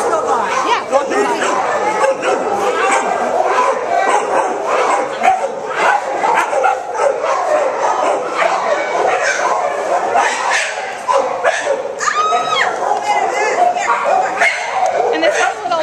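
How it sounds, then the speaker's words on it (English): At an animal shelter, dogs yip, bark and whimper continuously amid a noisy chatter of kennel sounds, with people talking nearby throughout. "And this is little doggie."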